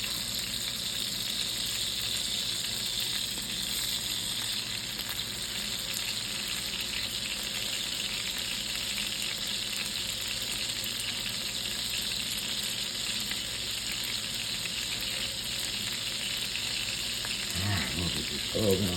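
Frozen salmon frying skin side down in a hot pan in a country home kitchen, a steady broad hiss of sizzling that holds evenly throughout at moderate level, with a brief clatter near the end.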